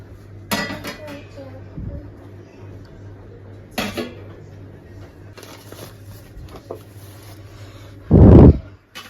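Plates and dishes clink and clatter while soft paratha is served, with a few sharp scattered knocks and one louder bang of crockery near the end, over a low background hum.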